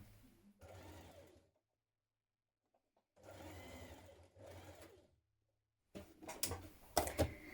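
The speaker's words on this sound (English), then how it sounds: "Stitch down the side seam with a 1 centimetre seam" A sewing machine stitches the side seam of a Style Arc Hope Dress with a 1 centimetre seam allowance. It runs in three separate bursts of whirring, with quiet pauses between, and the final burst is louder and busier.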